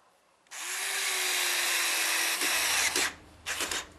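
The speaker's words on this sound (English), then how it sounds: "start screwing the pieces of wood together with good screws" A power drill drives screws into pieces of wood for a tool box, a loud close whine held for about two seconds, then a couple of shorter bursts as the screw seats.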